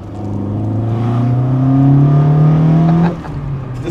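A Mk2 Vauxhall Cavalier engine revs loud and close, its pitch climbing steadily for about three seconds before dropping back toward idle.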